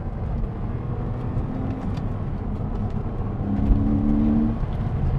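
Engine of a manual 2009 Porsche Cayman with track-day modifications, accelerating in second gear, heard from inside the cabin as a steady, close drone whose pitch lifts and strengthens partway through, over road and wind noise.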